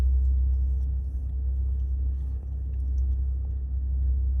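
An automatic car wash runs around a car, heard from inside the vehicle as a steady, loud low rumble with faint washing noise above, continuous and without talk.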